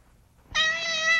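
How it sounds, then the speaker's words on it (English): A gray tabby cat gives one loud, close, drawn-out meow lasting under a second, heard alone over a quiet background. "get that cat out of here"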